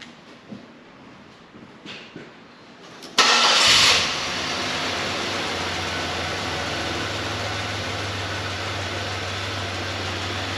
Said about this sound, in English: So I'm gonna start this and then start the car